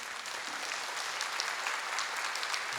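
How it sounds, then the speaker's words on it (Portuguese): An audience at a church service applauds, with dense, steady clapping that fills the room at moderate level throughout, with no voices over it. "Quer aplaudir? Pode aplaudir."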